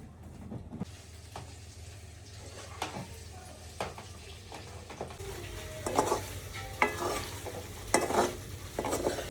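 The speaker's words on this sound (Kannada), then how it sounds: "ಮಸಾಲೆ ಎಲ್ಲ ಹಾಕಿ ಫ್ರೈ ಮಾಡಿಕೊಂಡು ಅದಕ್ಕೆ ಸ್ವಲ್ಪ ಕಸ್ತೂರಿ ಮೇಥಿ ಮತ್ತು ಮೊಸರು ಹಾಕ್ಕೊಂಡಿದ್ದೀನಿ" Masala with kasuri methi and curd fries in a home kitchen pan, giving a low sizzle broken by sharp spoon clinks and scraping stirs that grow busier and louder toward the end.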